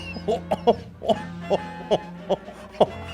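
A voice imitates the cough of choking while eating ramen with a rapid series of short, raspy hacking bursts, evenly spaced and close to the microphone.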